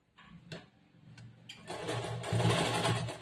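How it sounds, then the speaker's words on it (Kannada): A tailoring sewing machine runs close by, stitching a blouse with lining: a few brief ticks and short starts, then a steady, loud, whirring run that builds and holds, with no voices. "ಜೋಡಿಸ್ಕೊಂಡು ಇಲ್ಲಿಂದ ಸ್ಟಿಚಿಂಗ್ ಸ್ಟಾರ್ಟ್ ಮಾಡಬೇಕು"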